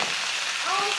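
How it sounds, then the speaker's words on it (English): A venison steak sears in a hot pan, giving a close, steady sizzle and crackle of frying meat for a brief moment. "I like to cook this hot. I like to sear that edge good."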